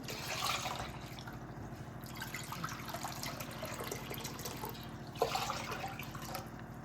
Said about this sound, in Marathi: तीन वाट्या पोह्याला मी इथं सहा वाट्या पाणी घेत आहे